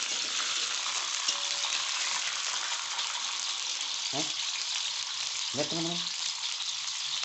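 Orbeez hydrogel toy shrimp frying in hot oil, a steady loud sizzle and crackle running throughout, with brief popping bursts near the end and a short spoken remark in between.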